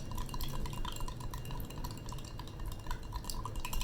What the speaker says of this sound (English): Stir this vigorously.